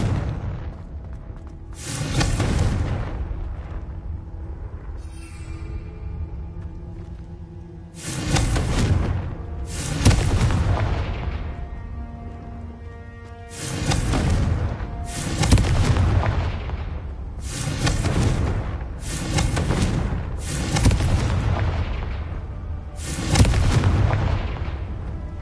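Confringo fire spell explosions in the video game Hogwarts Legacy, eight or so loud booming blasts with sharp onsets and rumbling tails, firing in irregular bursts a couple of seconds apart over a low background rumble.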